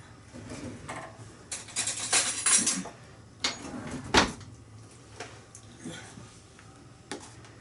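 A spoon is pulled from a home kitchen drawer while making pancakes, with rattling cutlery and clinks against dishes, including one sharp close knock, amid soft background voices.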